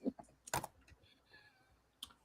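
A few sharp key clicks tapped out in short, sparse bursts, close by and fairly quiet, with pauses between them.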